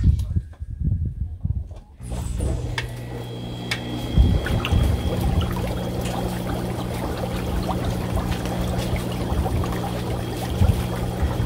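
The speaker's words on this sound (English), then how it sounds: "Next thing to do is to go ahead and plug in the air pump and then let this run for an hour" Air pump aerating city water for compost tea, a steady bubbling and gurgling churn with a low motor hum that starts after about two seconds and runs continuously and close, with a few louder splashes.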